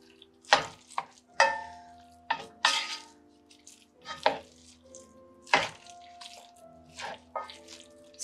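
Boiled potatoes jabbed and mashed with a wooden spoon for Thanksgiving mashed potatoes, a series of close, irregular thumps and squelchy scrapes with short pauses between strokes.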